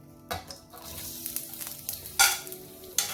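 Chopped onions frying in hot ghee for chicken karahi, a crackling sizzle broken by several sharp scrapes of a spoon against the pan, close and loud, with no voices.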